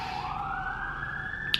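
An emergency vehicle siren passes outside on a Toronto street, a single wailing tone rising steadily in pitch, moderately loud and slightly distant.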